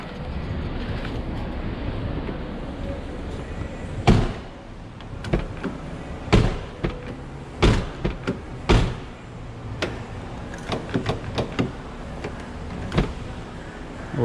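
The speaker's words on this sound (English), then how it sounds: "Okay, now we can try out the door." The passenger door of a 2003 Toyota Tacoma, fitted with a new exterior door handle, is opened and shut repeatedly, giving a series of sharp latch clicks and solid thuds over steady outdoor wind noise, with no speech.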